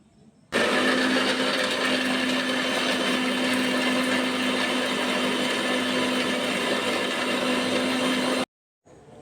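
A blender grinds whole cinnamon, cardamom and cloves into a spice paste: a loud, steady motor whir that starts abruptly, runs evenly for about eight seconds, then cuts off sharply.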